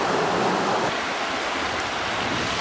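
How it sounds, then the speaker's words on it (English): Creek water rushes where a tributary flows in, a steady broadband wash of flowing water heard close and fairly loud, unbroken throughout without any voices. "So the tributary flows in to my creek right here. And the creek gets bigger."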